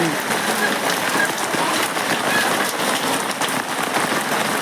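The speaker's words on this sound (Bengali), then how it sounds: "বৃষ্টি তো মার্ডার করে রইল আজকে" Heavy rain pours down at a village market in a dense, loud, continuous wash of drops hitting surfaces, with voices faintly present underneath.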